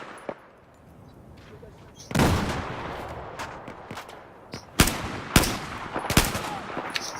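Gunfire in the shooter game Battlefield 4, with scattered loud shots and short bursts that come in sharper clusters toward the end over a low background rumble.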